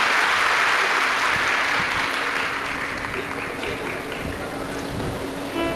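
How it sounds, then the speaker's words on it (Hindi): A large audience at a Shiv Mahapuran katha claps loudly and steadily to welcome the host family. The dense applause holds for about six seconds over a low hum, easing slightly in volume toward the end. "एक बार यजमान परिवार के लिए जोरदार ताली बजाकर स्वागत वंदन अभिनंदन।"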